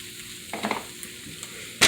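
Gravy being stirred in a hot pan: a steady low sizzle with a few short scraping, clattering strokes of the spoon, then a louder burst at the end, close by with no talking.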